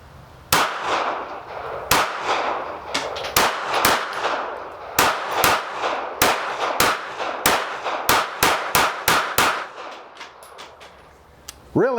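A KelTec PMR 30 .22 Magnum semi-auto pistol fires about two dozen sharp, ringing shots outdoors, first spaced out and then in quicker strings, each a crisp crack with a short metallic echo.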